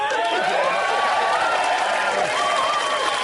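Studio audience on a 1994 live TV entertainment show applauding and cheering, a dense, steady wash of clapping that holds at full level throughout, with crowd noise mixed in.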